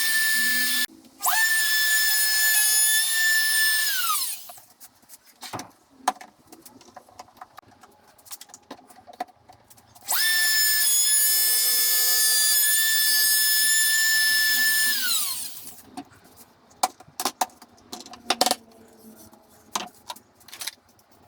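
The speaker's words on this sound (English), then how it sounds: "I think I'm going to have to route a channel to allow the strip of LEDs to sit in." A power router cuts a channel in wood for an LED strip in two loud, whining runs of several seconds each. Between and after the cuts come quieter knocks and handling clatter.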